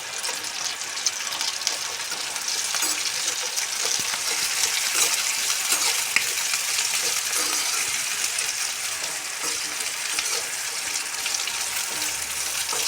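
Garlic cloves and tamarind fry in a pan with cumin seeds, a dense, loud, continuous crackling sizzle with a faint metallic rattle running through it, no talk.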